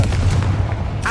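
Confringo blasting spell exploding in the video game Hogwarts Legacy, a short booming blast inside a mine, with a low rumble throughout and a brighter burst at the end.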